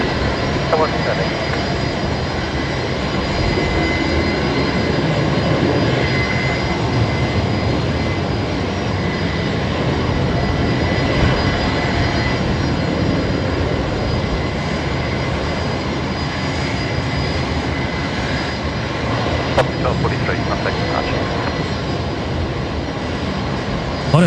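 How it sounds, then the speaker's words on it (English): Fokker airliner at Brisbane Airport, its engine running up after startup with a steady, loud, broadband roar and whine that holds for the whole stretch, heard near. "What a beautiful sound that was on startup from the Fokker"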